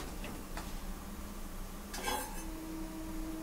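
Dishes and cutlery clink faintly while oil-free cooked mixed vegetables with jackfruit seeds are plated, a few sparse light taps over a steady low background hum, with one brighter clatter midway.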